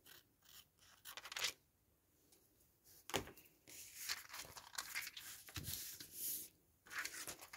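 Scissors snip and rasp through paper while an envelope is trimmed into a pocket for a craft project, quiet close crunches and cuts in uneven bursts with soft rustling between.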